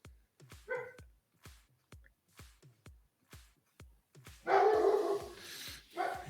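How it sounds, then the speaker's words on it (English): Several dogs bark in sharp repeated bursts throughout, close and loud, with a louder cluster of overlapping barks and yips near the end, no talking. "Yo, my dogs are going crazy"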